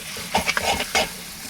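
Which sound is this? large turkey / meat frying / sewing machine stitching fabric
meat frying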